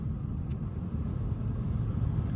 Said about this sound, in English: So it's much quieter now than it was, but it still has some drone.